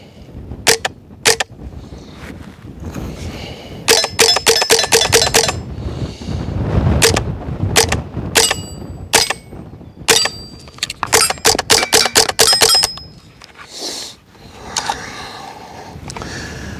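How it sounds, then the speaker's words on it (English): A suppressed rifle fires subsonic Federal standard-velocity rounds at a steel target, giving sharp clicks and metallic pings in bursts of rapid shots with short pauses between, close and loud, without talk. "Those rounds are staying subsonic."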